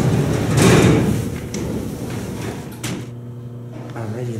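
A heavy manual gate on an OTIS freight elevator slides along its track in a loud rumbling scrape, then stops with a clunk, and a voice and a humming tone follow.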